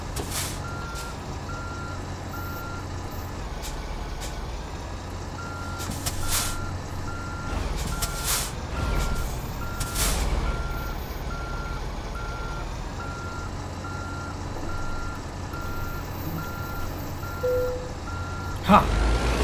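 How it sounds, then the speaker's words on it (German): A truck towing a trailer backs up in American Truck Simulator, its reversing alarm beeping steadily over a low engine rumble with occasional air-brake hisses, while someone speaks at times. "Fahren wir mit so einem Trailer dann rückwärts."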